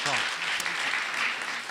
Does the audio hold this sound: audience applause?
yes